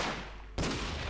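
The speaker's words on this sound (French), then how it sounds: "Oh l'explosion." A sudden explosion in the Minecraft video game, a single sharp boom that cuts in abruptly over steady background noise and lingers briefly, with no talking.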